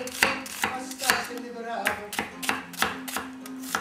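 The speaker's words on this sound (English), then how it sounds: "All we do with these onions is cut them in half and then make canoes with them." Onions being cut in half with a knife on a cutting board, a quick run of about a dozen sharp, close chopping knocks in a steady rhythm with no talk.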